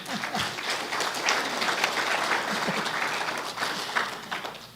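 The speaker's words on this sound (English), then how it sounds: "That deserves a clap" Steady applause from a seated audience at a Rotary Club of Tucson weekly meeting, dense clapping sustained for about five seconds at an even level, with some faint voices mixed in.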